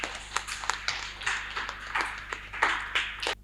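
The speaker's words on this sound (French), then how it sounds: "Je voudrais vous demander de vous applaudir vous-même" Festival audience in Pobè, Benin, applauding themselves at an outdoor music event, with scattered, uneven hand claps from a modest crowd, some sharp and close, over a low hum.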